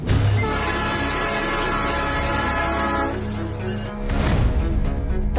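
A train rolls loudly and continuously through a railway level crossing, its horn blaring in long sustained tones with a brief dip before the horn swells again.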